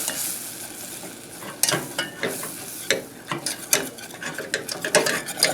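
Ingredients for a vegetarian meatless lasagna being stirred and mixed in a bowl, with close, irregular scraping and clicking strokes over a soft background hiss.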